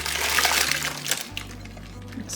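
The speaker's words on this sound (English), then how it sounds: "Then I'm gonna pour my egg mixture in." Beaten egg mixture for a crustless taco quiche poured into a sprayed slow cooker liner, a soft liquid pour and splash running steadily for about a second, close up and alone.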